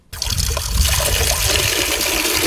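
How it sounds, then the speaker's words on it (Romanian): Running spring water in a mountain village at nearly 1000 metres altitude pours and splashes steadily, loud and close, with no voices over it. "Văd că aveți apă aici la munte, la aproape 1000 de metri altitudine, apă curentă."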